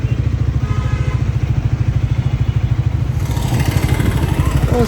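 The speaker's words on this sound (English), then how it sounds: "I'm going to take a test drive of Triumph Scrambler in white now" A white Triumph Scrambler motorcycle, the Scram 400X, on a test ride, its engine thumping in a fast, steady, close rhythm that holds throughout.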